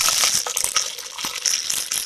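Mustard seeds splutter and pop in hot oil for a Tamil snakegourd kootu, a dense close crackle of sharp little bursts with no one talking.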